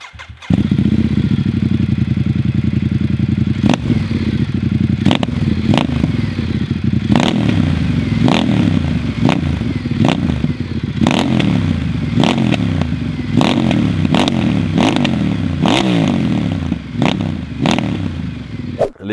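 A Ducati Diavel motorcycle engine idles with a deep, throbbing rumble, blipped by repeated sharp throttle revs, loud and close throughout.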